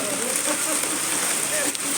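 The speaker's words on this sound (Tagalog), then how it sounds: "kahit umuulan, basa na talaga kami dito lahat guys" Steady rain falls outdoors on workers who are already soaked, a dense constant hiss close by with a voice faintly underneath.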